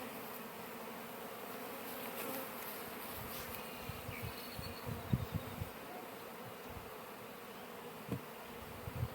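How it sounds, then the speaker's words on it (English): Steady, soft buzzing of honey bees close by, a continuous drone with occasional louder passes as individual bees fly near. "seal it up now to help make sure your bees don't get away"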